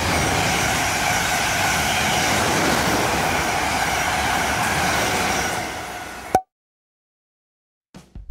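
A train rumbles through Witley station on the Portsmouth Direct Line, a steady loud roar of wheels and carriages that fades out and cuts to near silence.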